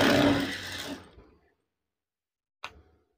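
A sewing machine stitching curtain fabric runs in a loud, fast whirr for about a second, stops, then gives a single short clack after a pause of near silence.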